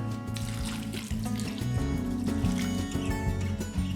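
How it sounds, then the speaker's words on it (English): One liter of water pours steadily into a cooking pot holding quince and large pieces of lemon rind for marmalade, a continuous close trickling splash over background music. "And now 1 liter of water."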